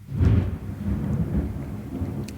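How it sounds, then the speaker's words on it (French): A terrible thunderstorm outside rolls as a loud, deep rumble of thunder over steady rain, swelling early and sustained for a couple of seconds with no voices. "Il y a un orage terrible dehors."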